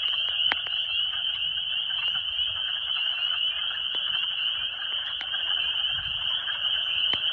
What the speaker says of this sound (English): Those are the bigger frogs.